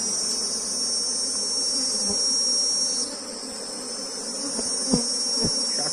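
Honey bees (Apis) on an open hive frame make a steady, loud, close buzzing drone that fills the whole stretch, with a few faint knocks underneath.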